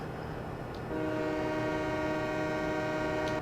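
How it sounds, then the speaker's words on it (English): A locomotive whistle in the video game Farming Simulator 17 blows a steady, sustained horn tone that starts about a second in, layered over a continuous rumble of the moving train. "A little late on that whistle."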